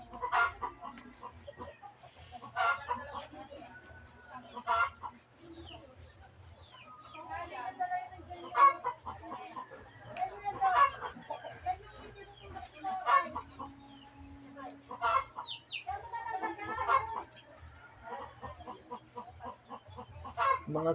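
A hen clucks repeatedly and close by in a rural yard, with irregular bursts of clucks and squawks running throughout while a person talks intermittently.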